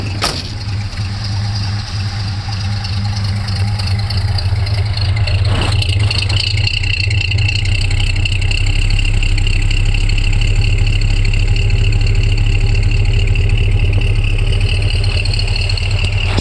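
A 1979 Chevrolet C10 pickup's engine idles with a steady, close, loud low rumble that holds even for over sixteen seconds, with no talking over it.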